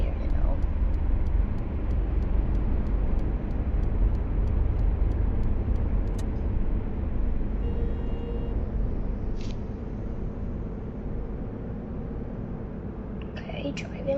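A BMW 750i E38 cruises along a route in the City Car Driving game, giving a steady, continuous engine and road drone that stays level throughout with little change.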